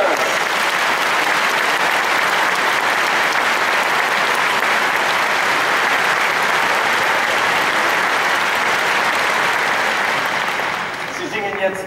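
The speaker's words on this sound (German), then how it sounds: "Geben Sie einen riesen Applaus, der Platin Tenors!" A large audience gives loud, continuous applause welcoming a tenor group onto the stage, a full, even wall of clapping that holds steady for about ten seconds before it fades out.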